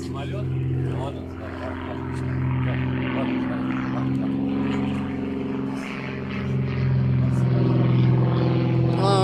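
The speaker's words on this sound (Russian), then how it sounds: "Вот какие самолетики летают." A propeller airplane drones steadily overhead, a sustained engine hum that swells slightly louder toward the end, with people talking over it.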